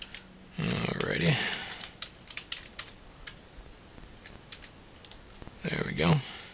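Password entered on a computer keyboard: a quick run of close, crisp key clicks in uneven bursts, with muffled voice-like sounds at the start and end.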